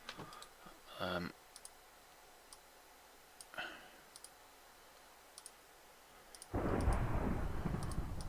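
Thunderstorm in a Minecraft modpack game: after a few sparse clicks and short game blips, a heavy burst of rain-like roar and rumbling thunder arrives near the end and carries on at steady loudness.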